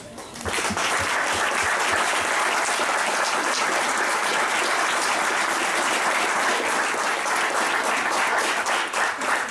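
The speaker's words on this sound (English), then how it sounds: "We'd like to give you a hand of applause." Sustained, loud applause from an audience honoring combat veterans, a dense steady wash of many hands clapping that swells in after a brief start and holds for nearly ten seconds.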